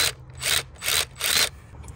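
A ratchet wrench loosens the 10mm nut on the EGR solenoid of a 2002 Mitsubishi Montero Sport, giving four quick, close clicking bursts with short pauses between them.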